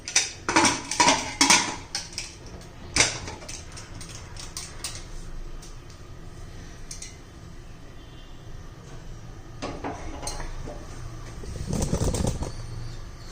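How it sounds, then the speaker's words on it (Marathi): Metal clatters and clanks in quick bursts as a pressure cooker lid is handled and fitted while cooking methi vade, then quieter shuffling and a final louder rattle. "कुकरचं झाकण लावून घेते"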